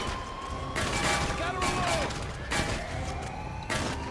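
Rockets exploding in the video game GTA 5, heard as several loud, broad booming bursts in quick succession with whistling tones sweeping between them.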